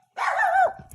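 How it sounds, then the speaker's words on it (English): A dog gives a single drawn-out bark or yelp, fairly close and loud, with no talk over it. "Dogs barking."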